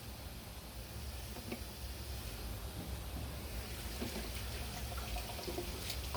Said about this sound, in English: So I'm rinsing out the milk frother.